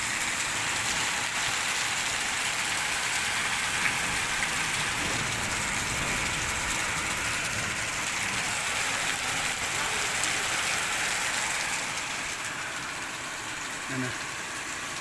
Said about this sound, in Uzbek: Jala birdaniga quyib bahor yomg'iri.